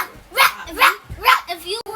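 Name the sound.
child imitating a dog barking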